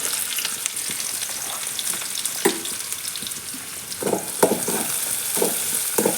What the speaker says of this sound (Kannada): ಸ್ವಲ್ಪ ಉಳ್ಳಾಗಡ್ಡೆ ಹಾಕಿ ಫ್ರೈ ಮಾಡ್ತೀನಿ